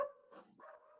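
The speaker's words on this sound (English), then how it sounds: "My dog answering the other." A pet dog named Penny gives two short, quiet barks, somewhat distant and muffled, during an online committee meeting.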